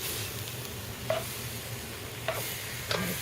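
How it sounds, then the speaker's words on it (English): Venison chili gets stirred in a pot, with a soft bubbling simmer underneath and a few light scrapes of the spoon against the pot at intervals. "We're going to stir that up."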